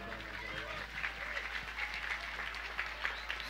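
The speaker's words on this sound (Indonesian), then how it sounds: "tepuk tangan buat Bapak Polisi kita" Faint, distant clapping from an audience at an evening religious gathering, a steady soft patter honouring the police, with a low hum underneath.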